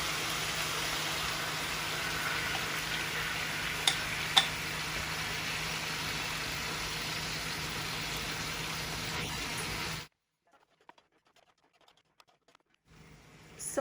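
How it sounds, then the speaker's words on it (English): Meat frying in a pot for Guyanese pepper pot gives a steady, dense sizzle with a couple of sharp pops, running about ten seconds before cutting off to near silence. "it's been about 10 minutes since I have my meat frying"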